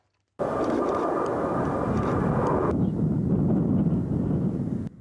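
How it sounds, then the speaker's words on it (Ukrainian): Su-27 fighter jets and an Il-76 transport plane roar loudly overhead on landing approach, a steady broadband rush that shifts lower in tone midway before cutting off. "Два винищувачі су 27 з Миргорода та Мілітопольський транспортник Іл-76 заходять на посадку."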